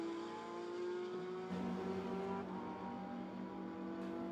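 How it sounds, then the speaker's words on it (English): A Porsche Cayman GT4 Clubsport RS race car in GT4 European Series qualifying at Jeddah drives on track with a steady, moderately distant engine drone that shifts pitch around gear changes. "one of those gorgeous-looking Cayman GT4 Club Sport RSs, or RS Club Sports, comes down towards turn 27"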